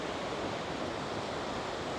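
Ocean surf at Ala Moana Beach Park in Hawaii makes a steady, broad wash. The waves roar evenly with a hiss of wind over them, and no voices are heard.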